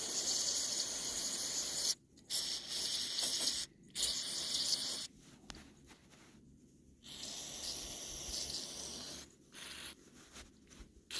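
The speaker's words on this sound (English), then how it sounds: "Just spray the crap out of it with carburetor cleaner." Hissing aerosol carburetor cleaner sprayed onto a 1970s–80s Lincoln Continental power seat switch in several stop-start bursts, close up, with short pauses between squirts and no talking.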